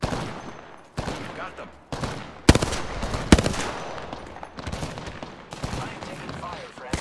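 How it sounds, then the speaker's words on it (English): Rapid automatic gunfire bursts from a battle royale shooter on the King's Canyon map, sharp repeated volleys with gaps between them, under a character voice and in-game callouts. "I am taking fire. Reloading."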